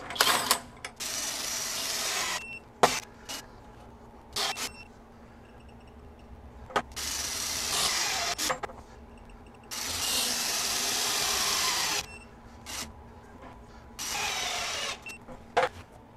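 Kobalt mid-torque impact wrench run in auto slowdown mode, giving several separate loud bursts of hammering at close range, each a second or two long, with short isolated clicks and quiet pauses between runs.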